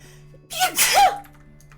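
One close, sharp sneeze bursts out after a short inhale during a tabletop role-playing game session, loud and breathy against a quiet room with a faint steady hum.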